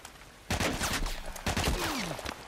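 Gunfire in The Last of Us Part 1, two loud bursts of shots about a second apart, the second followed by a ringing tail, with little talk over it.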